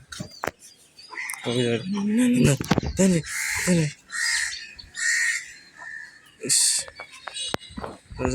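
A crow caws several times close by in a rural neighbourhood, the harsh calls coming in bursts among other outdoor sounds, with someone speaking at moments.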